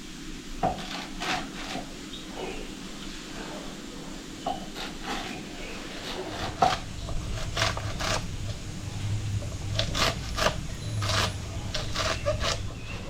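A knife chops fenugreek (methi) leaves on a board, a run of quiet, irregular taps and thuds close by with soft rustling between strokes, no talking over it.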